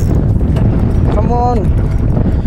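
Horse hooves clip-clop on a very windy outing by the water, with a steady patter of steps under heavy wind rumble and a brief tonal cry in the middle.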